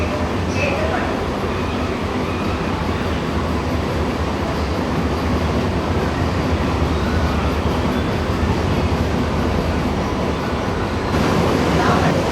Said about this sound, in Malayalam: നല്ല ഫ്ലാറ്റ് വീലുണ്ട്. സൗണ്ട് ഇങ്ങനെ കടകടകടാ എന്നിട്ട് അടിച്ചുകൊണ്ടിരിക്കുക.